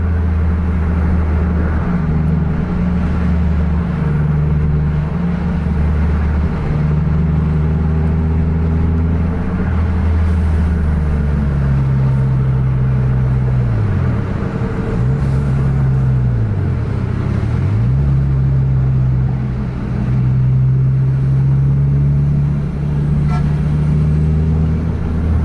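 Scania K410 intercity buses driving a road between Medan and Banda Aceh, a loud steady diesel drone with engine pitch dipping and rising as they shift gears, continuous throughout.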